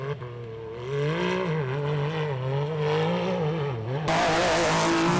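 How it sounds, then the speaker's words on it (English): A single-seat Can-Am UTV launches off the line in a 4900-class UTV race, its engine revving hard and climbing in pitch, loud and close, with a brief drop before pulling on under full throttle. "a single-seat Can-Am UTV as he hits the Yukon launch. Takes the safer left-hand line, but all over the throttle."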